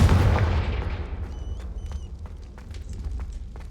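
A Confringo spell explosion in the Hogwarts Legacy video game, a loud low boom at the start that rumbles and fades, followed by faint chiming tones and light footsteps.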